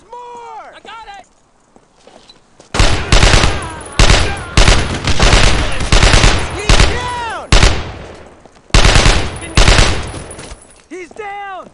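Rapid bursts of gunfire in the World War II shooter Brothers in Arms: Road to Hill 30 start a few seconds in and come in loud, dense volleys, with shouted voices mixed through the firing.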